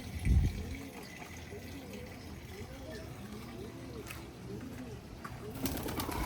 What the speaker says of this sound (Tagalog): Nakalabas sa mga kalapatids kaya tuwang tuwa.